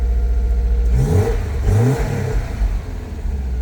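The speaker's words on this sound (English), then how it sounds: "You can feel that freaking exhaust and engine." A Subaru WRX with about 40,000 miles and a throaty exhaust revs up from the cabin, its engine swelling in a couple of quick throttle blips over a constant loud drone, with no voices.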